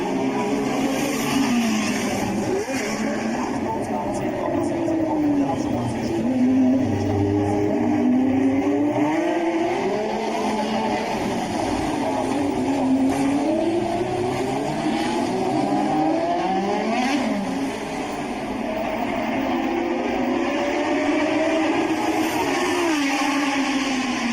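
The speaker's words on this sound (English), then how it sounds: "Lap 26 with Prost leading, Senna second" Formula 1 race cars at the 1984 Monaco Grand Prix, a continuous high-pitched engine whine that swoops up and down as the cars accelerate and brake around the street circuit, heard at a moderate distance without commentary.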